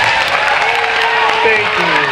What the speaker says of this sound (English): Some more applause would be appreciated